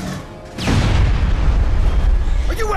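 A grenade goes off in the video game Aliens: Colonial Marines, a loud deep boom that rolls on as sustained rumbling for about two seconds, followed by a brief sharper tonal effect at the end.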